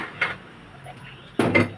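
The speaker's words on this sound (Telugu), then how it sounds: "మూత పెట్టేద్దామండి," A metal lid is set on a cooking pot of water in a home kitchen while upma is being made: two brief clanks about a second apart, with quiet background between them.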